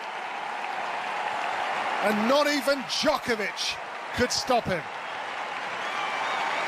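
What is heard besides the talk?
applause after Nadal's French Open win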